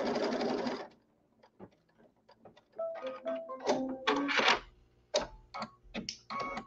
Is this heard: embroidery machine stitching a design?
yes